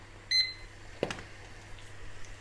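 A kitchen timer being reset while pan-frying prawns: one short bright beep near the start, followed by a soft click and faint kitchen rustle.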